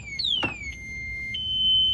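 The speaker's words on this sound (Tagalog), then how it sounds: "pag nilock mo yan susian natin ayan mag-alarm siya" A Keso e-bike's anti-theft alarm sounds when locked with the key, giving loud electronic sweeping tones that rise and fall and then settle into a steady high beep, close and with no talk over it.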